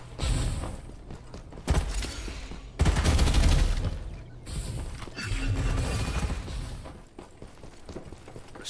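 Video game gunfire in the shooter Farlight 84: dense, rapid bursts of automatic weapon fire in several long volleys with brief pauses, loud and continuous, with no voices.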